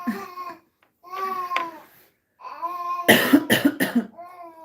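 Several harsh coughs burst out close by in a quick cluster, set between stretches of voices babbling and talking.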